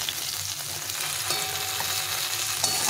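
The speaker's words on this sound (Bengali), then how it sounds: "এখানে বেগুনটাও ভাজা হয়ে এসেছে, বেগুনটা দেখো লাল করে ভেজে নিয়েছি একদম।" Eggplant slices fry in hot oil with a loud, dense, steady sizzle and faint stirring, with no voices.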